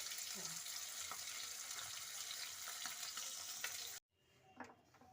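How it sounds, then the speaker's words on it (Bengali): Fish pieces in oil hiss and sizzle steadily for several seconds, then cut out abruptly to a quiet room with a brief soft clatter. "এবার মাছটা ভাজা হোক টুকটুক করে"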